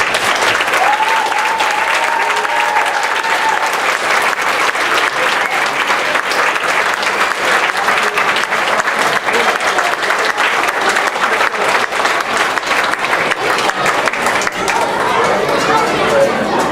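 Sustained, loud applause from parents after a school history program, dense clapping that carries on for a long stretch while chatter and voices mix in.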